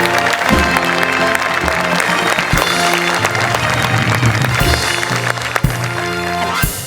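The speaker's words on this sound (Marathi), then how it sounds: "जोरदार टाळी त्यांचं स्वागत करूया." An audience at a comedy stage show applauds to welcome a guest on stage, with the clapping running under loud, rhythmic music with heavy beats.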